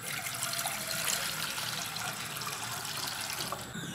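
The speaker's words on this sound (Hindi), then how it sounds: "अब सबसे पहले एक पैन में पानी डालें।" Water being poured into a cooking pan at the start of a spicy brain masala (bheja fry) street-food recipe, a steady continuous splashing pour that fills the whole stretch without pause, close and fairly loud, with no talking.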